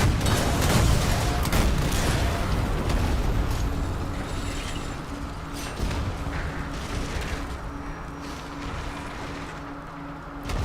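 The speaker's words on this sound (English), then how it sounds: "Secondary explosion, maybe." An explosion in Sniper Elite 4 bursts loud at first, then its rumbling roar fades slowly over several seconds, with low mechanical hum and scattered distant crackles lingering behind.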